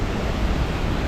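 Loud, steady rushing roar of Cincinnati Freedom Falls on Little Cow Creek, a dense unbroken wash of falling water close by.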